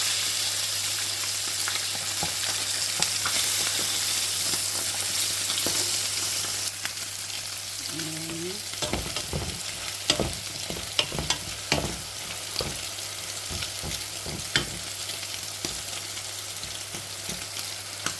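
Mussels (tahong) fry in a pan with a constant sizzle, joined partway through by repeated scraping and clattering as they are stirred, recorded up close.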